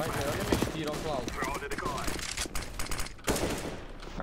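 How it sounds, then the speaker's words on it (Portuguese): Rapid bursts of gunfire in the video game Counter-Strike: Global Offensive, sharp cracks in quick succession with a few louder shots, under a steady background of game noise. "olha-me este tiro ao Cloud"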